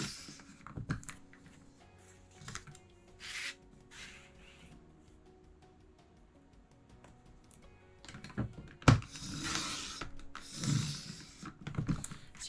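A paper trimmer makes two 4.5-inch cuts through paper mats for a card project, each a short, breathy slicing rasp. The cuts are separated by quiet handling clicks and rustles, with no talking.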